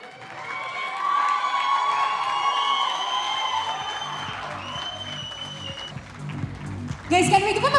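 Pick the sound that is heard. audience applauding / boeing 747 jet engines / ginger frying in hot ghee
audience applauding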